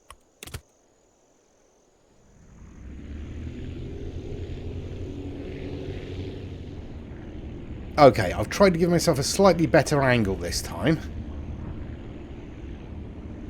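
A plane engine in the building-and-flying game Aviassembly comes in after a short silence as a steady, mid-level drone. Someone talks over it partway through, and the hum carries on after he stops.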